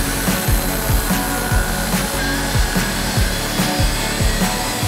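Wooden block being cut with a hand saw while being split for a knife handle, steady rhythmic rasping strokes at close range, about two strokes per second.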